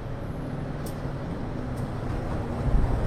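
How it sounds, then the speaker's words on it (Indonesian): Kamandaka passenger train pulling into Weleri station in Kendal, Indonesia, a steady low rumble building toward the end, with brief faint high squeals over it. "Ini ada kereta apa ya yang masuk?"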